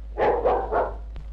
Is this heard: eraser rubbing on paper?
no